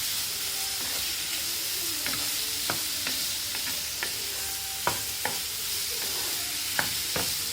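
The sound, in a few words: meat and spring onions sizzling in a pan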